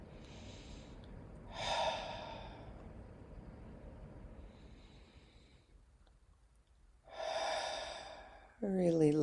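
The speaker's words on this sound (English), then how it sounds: "just deepen the breath a little bit, perhaps even calling breath in through the nose and releasing it on a sigh through the mouth" Slow, deep breaths during a guided sitting meditation, two audible sighing exhales through the mouth separated by quiet inhales through the nose, close and soft, with a voice starting at the very end.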